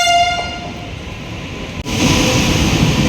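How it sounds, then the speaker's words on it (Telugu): A Mumbai-bound train arrives at the station, its loud horn blaring as a sustained tone before cutting off, then giving way to a broad rushing rumble of the cars rolling close by. "అదిగో మా అమ్మ ముంబై ట్రైన్ అయితే వచ్చేస్తుంది"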